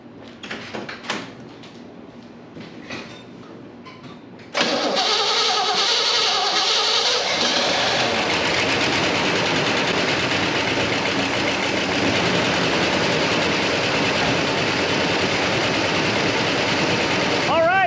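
A 1965 Pontiac GTO with Tri Power carburetion fires up after priming: a few seconds of clunks and cranking, then the engine catches with a sudden loud, steady rumbling idle that holds to the end.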